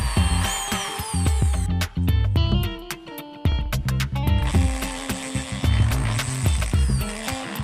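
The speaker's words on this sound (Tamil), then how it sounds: "நான் ட்ரில்லை வச்சு ரெடியூசரில் 4-5 ஓட்டை போட்டு" A power drill whines and chatters as it bores holes into a plastic PVC reducer, pausing briefly between bursts, loud and close.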